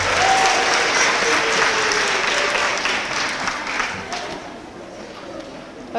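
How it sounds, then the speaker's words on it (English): Audience at a school academic awards ceremony breaks into loud, sustained applause that gradually thins and fades, with a few voices underneath. "let's give these guys a big round of applause"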